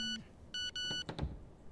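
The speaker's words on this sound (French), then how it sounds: "Ah ok, notre téléphone, je pense." A telephone in a game house rings with short electronic beeping tones in two quick bursts, fairly close and clear, followed by a brief clatter.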